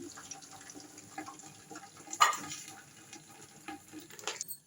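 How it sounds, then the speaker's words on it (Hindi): Water poured into a pan of browned onions and ghee, a quiet, uneven gushing and sizzling splatter with sharper bursts near the middle and end, close by and without voices. "अब हम इसका कलर निकालने के लिए पानी डाल दिया है।"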